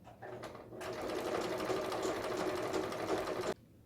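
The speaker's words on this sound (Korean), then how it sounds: "재봉틀이 있어서 재봉틀로 끼워주는 거예요." A sewing machine stitches the pieces of a cloth face mask with a filter pocket, a close, rapid mechanical whirr that runs for about three seconds. It stops abruptly, leaving near silence, and a few brief clicks come before it starts.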